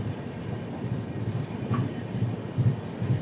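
Hubballi-Hyderabad Express train rolling into Telapur station, a faint, steady rumble of wheels and carriages with soft rhythmic clatter and a brief high squeal.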